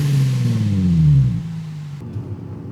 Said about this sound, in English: show you how it sounds when it's parked, the exhaust and the tune